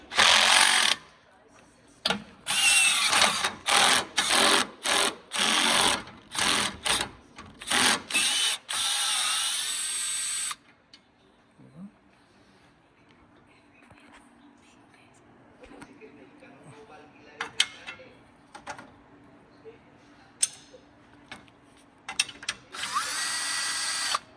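Power tool buzzing in a rapid series of short, close bursts while removing a bolt from a Toyota RAV4 headlight, followed by quieter clicks and handling noise.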